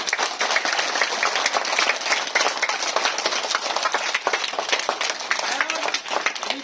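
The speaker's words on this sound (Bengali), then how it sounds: "জোরে হাততালি সবাই একবার।" Loud, dense applause from a gathered group at an event, many hands clapping fast and steadily for several seconds, close and continuous, with no talk over it.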